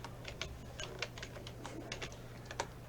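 Fingers type on a computer keyboard while entering data into an Excel spreadsheet, producing quick, irregular key clicks close by over a steady low background hum, with no talking.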